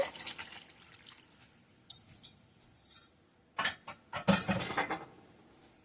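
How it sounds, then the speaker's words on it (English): A cornstarch and water slurry is poured into a pot of potsticker soup, producing several short splashing and trickling bursts with light clinks from the pot, separated by brief quiet gaps. "Just use that 2 cups of water and 2 tablespoons of cornstarch, and we're just going to pour that in."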